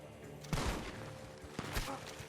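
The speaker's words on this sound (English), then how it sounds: "The gunshots are coming from that barn." Two sharp bursts of gunfire in Red Dead Redemption 2, coming from a barn, the second about a second after the first, crack over a steady rumbling background.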